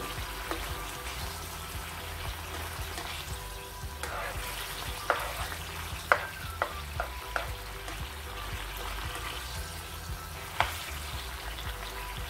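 Chopped onion sizzles in a hot pan over a high gas flame while being stirred for a chicken penne pasta, a steady close frying hiss broken by a few sharp spatula scrapes and clicks.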